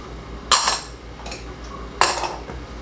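A utensil scrapes and clinks against a bowl while flour, salt and baking powder are stirred together for biscuits, giving two short bursts of clatter with quieter scraping between them.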